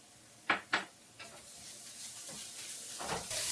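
Crushed ginger and garlic go into onions frying in a pan, giving a quiet, close sizzle. Two sharp clinks come early, followed by soft stirring and a hiss that swells slightly toward the end.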